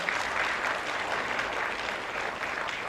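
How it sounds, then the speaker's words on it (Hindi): An audience at a school event in Jharkhand, where tablets are being handed out to primary schools, breaks into brief, dense applause. The clapping stays even and fairly loud for a few seconds. "तालियां आपकी ओर से जोरदार हैं"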